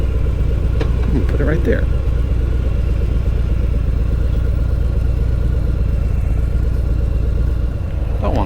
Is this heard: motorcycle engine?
yes